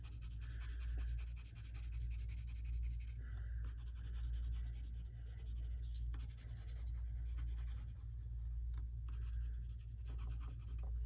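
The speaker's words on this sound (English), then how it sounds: "you're gonna take your pencil and shade that in" A pencil shades on paper in a continuous, close scratchy rubbing, with strokes going back and forth steadily and no voices.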